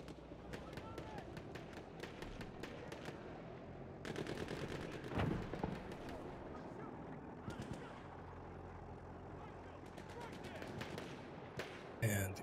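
Rapid bursts of automatic gunfire from The Division video game run throughout at a moderate distance, with brief pauses between strings of shots and a voice talking over them.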